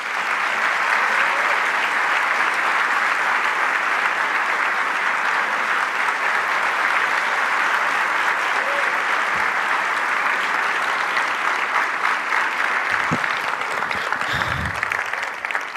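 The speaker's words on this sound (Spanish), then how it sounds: "le pedimos un muy fuerte aplauso para recibir al señor Presidente de la Nación, Javier Milei." A large audience at an economics congress in Argentina applauds to welcome the country's president onto the stage, sustained dense clapping at full level for the whole stretch with a few low thumps near the end.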